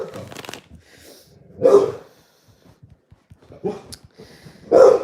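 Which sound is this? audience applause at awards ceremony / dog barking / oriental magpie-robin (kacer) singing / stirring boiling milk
dog barking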